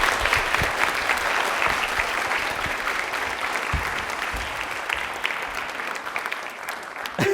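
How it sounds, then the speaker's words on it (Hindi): Steady, dense applause from a studio audience on a Rajasthani television quiz show, sustained at even loudness for several seconds with no talk over it. "तालियां एक बार जोरदार हो जाए।"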